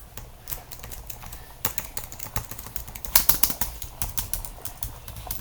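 Loud computer keyboard keys pressed in an irregular run of sharp clicks and clacks, nearby and alone with no talking, with a brief denser burst of rapid strokes partway through.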